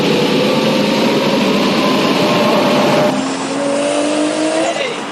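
A high-powered car making around 615 rear-wheel horsepower runs hard on a chassis dyno, a loud sustained engine roar with rising high-pitched whine through the run, easing slightly near the end.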